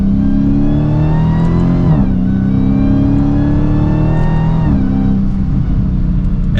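A Dodge Challenger SRT Hellcat Redeye downshifts under load, its engine note dropping sharply twice amid a loud, sustained roar with a high supercharger whine layered on top.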